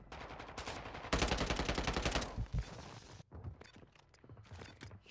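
Rapid automatic gunfire in Warzone Mobile during a squad fight, a loud sustained burst of close shots followed by fainter scattered rounds and movement noises.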